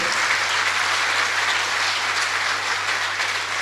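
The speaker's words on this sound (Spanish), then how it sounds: "Denle un fuerte aplauso al Señor." A church congregation applauding, dense sustained clapping from many hands filling the room evenly, loud and unbroken with a low hum beneath.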